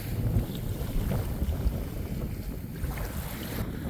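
Cold north wind buffets the microphone on Pensacola beach as a steady, low rumbling roar with gusty swells, and faint surf lies underneath. No one speaks.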